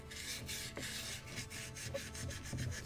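A Scotch-Brite pad scrubs across the wood of a model boat kit, a Muscongus Bay lobster smack, with quick back-and-forth strokes. It makes an even, close raspy rubbing that pulses steadily and is heard alone.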